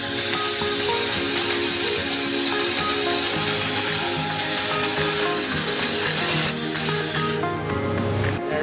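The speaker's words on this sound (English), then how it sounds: "Now I will show you the laser cleaning function." A 4-in-1 handheld laser welding, cutting and cleaning machine strips a metal surface, giving a loud, steady, close-up crackling hiss that runs without a break and shifts in tone near the end.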